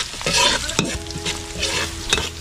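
Garlic fries in a pan while being stirred, giving a loud close sizzle broken by sharp scraping strokes of the utensil.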